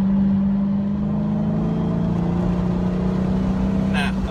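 A Dodge Charger Hellcat's engine drones steadily while accelerating on a cool-down lap of a fall rally track, a sustained low growl that holds throughout, with a brief higher whine near the end.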